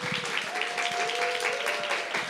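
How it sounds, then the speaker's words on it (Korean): An audience at a church revival lecture applauds to welcome a guest speaker, a brief burst of many hands clapping at close range, with a faint tonal whistle or hum running beneath and some voices mingled in. "박수로 모시겠습니다"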